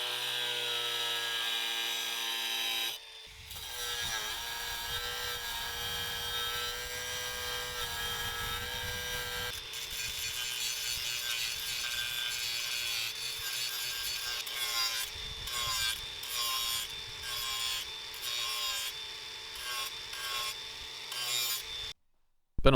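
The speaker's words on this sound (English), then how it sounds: "scratched the rust off under that marker to clarify the line so I could see it while I was grinding" An angle grinder works rust off scrap metal for a tripod build, a continuous loud whining drone with shifting grinding rasp, stopping briefly a few times with stuttered cuts near the end.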